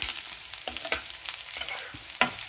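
Radish frying in a pan with a tempering of spices, a soft continuous sizzle broken by repeated sharp scrapes and clinks of a spoon stirring, close and fairly quiet.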